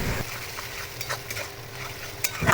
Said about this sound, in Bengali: আদা আর রসুনটাকেও আমি খুব ভালো করে ভেজে নেব।